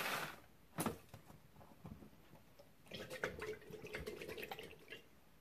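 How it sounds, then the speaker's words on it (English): Water pours and splashes into a bowl while slime is being mixed, a short burst of splashing followed by a longer stretch of irregular dripping and trickling, fairly close. "This one sounds like water"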